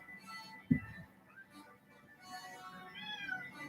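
A cat meows a few times, soft and somewhat distant, with a brief thump near the start and faint background noise.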